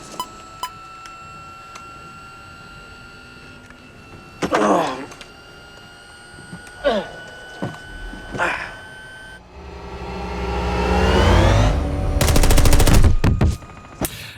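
Bursts of gunfire ring out during a film car chase scene, with several short volleys spread across the stretch and a dense, loud rattling run of shots near the end, amid engine rumble and electronic beeps.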